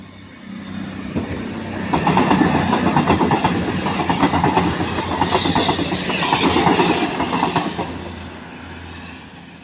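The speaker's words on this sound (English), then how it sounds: "Now passerby is going to be 221 134, going from Manchester Piccadilly to Bournemouth." Class 221 unit 221 134, running Manchester Piccadilly to Bournemouth, passes at Ardwick with a swelling rumble and rapid wheel clatter over the rails that builds, holds for several seconds, then fades away.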